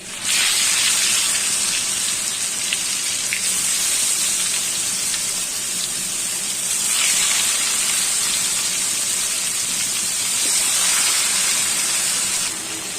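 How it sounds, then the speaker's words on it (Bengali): Large pieces of turmeric-, chili- and salt-coated fish fill a pan and fry in hot oil, giving a steady, loud, even hiss that swells slightly and never stops. "কড়াই ভর্তি, মানে তাওয়া ভর্তি মাছ দিয়ে দিলাম। সুন্দর করে ভেজে নেব।"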